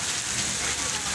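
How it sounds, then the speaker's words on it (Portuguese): Heavy rain pours down steadily in a dense, loud hiss, close and continuous, during a downpour in northeastern Brazil. "É muita chuva nessas horas."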